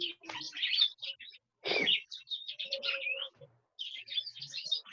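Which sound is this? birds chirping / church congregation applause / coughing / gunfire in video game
birds chirping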